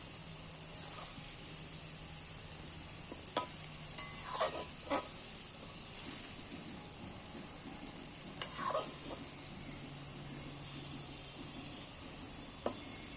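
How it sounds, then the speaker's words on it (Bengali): Vegetables sizzle steadily in hot oil in a pan while a utensil scrapes and stirs them in several brief, close scrapes, with no one talking. "একবার করে নেড়ে দিই"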